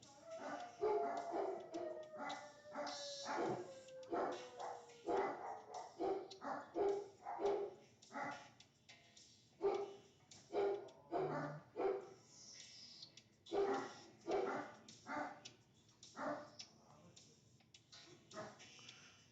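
Dogs in a house barking and yipping in loud repeated bursts, with some whimpering, going on throughout the stretch.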